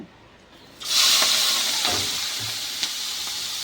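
Salted, turmeric-coated prawns hitting a hot pan, a sudden loud hiss that settles into a steady close sizzle with a few soft knocks.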